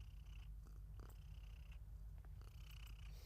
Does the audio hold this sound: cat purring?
yes